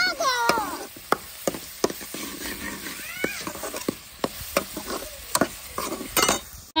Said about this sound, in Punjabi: ਹੁਣ ਆਪਾਂ ਪਿਆਜ਼ਾਂ ਨੂੰ ਕਰਾਂਗੇ ਬਰਾਊਨ।